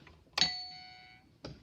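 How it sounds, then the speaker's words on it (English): An electromagnetic doorbell, whose striker hits a metal plate on each stroke, gives a bright ding that rings and slowly fades. A second strike follows about a second later and is cut short. "So I get my doorbell."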